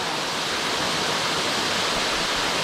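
Waterfall in the Sebadani stream gorge, a steady broadband roar of falling water that runs unbroken through the whole stretch, loud and close with no voices.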